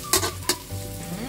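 Garlic for pork menudo is stirred in a hot pan, with two sharp scraping strokes over a steady close sizzle.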